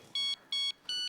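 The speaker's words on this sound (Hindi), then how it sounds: "ये देख तेरे भाई का फोन।" A mobile phone rings with three evenly spaced electronic tone bursts, clear and close, with nothing else heard.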